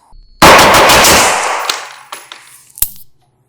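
A single very loud, close unsuppressed shot from a Knights Armament direct-gas rifle cracks out, followed by a long ringing, reverberant tail and a few sharp metallic clinks as it fades to silence.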